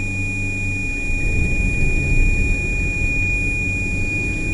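A steady high electronic low-engine-speed alarm beep from a combine harvester during a barley harvest holds continuously over a low engine rumble, with no talk.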